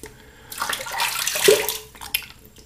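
Water running from a tap while rinsing after a shave with a double-edge razor, a brief steady splashing rush that swells and then cuts off, with no talk.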